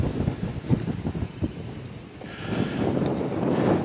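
Gusty wind sweeps past outdoors near a beach in Portugal, a steady buffeting roar with rumbling bursts against the microphone, swelling louder toward the end; no voices.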